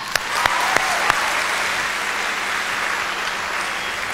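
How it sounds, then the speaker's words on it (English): Audience at a youth leadership workshop giving a volunteer a big round of applause, steady dense clapping after a few sharp early claps, sustained at moderate level with no speech. "Everyone give Amy a big clap"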